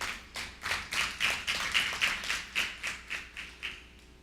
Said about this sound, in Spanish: ¿Será que alguien le da un aplauso a él?